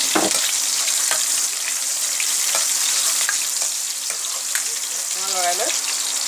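Onions sizzling in hot oil in a pan for a coconut-milk fish curry, a loud continuous frying hiss with occasional scraping stirs, and a brief voice near the end.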